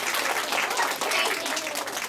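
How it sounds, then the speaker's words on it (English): A first grade class claps for a story in the classroom, a dense burst of sustained applause from many small hands, loud and continuous throughout. "If you like that story, clap for it."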